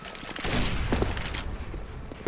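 Gunfire in the game CS:GO, a dense burst of shots throughout with low thuds and a sharp hit near the end, loud and close, no talk over it.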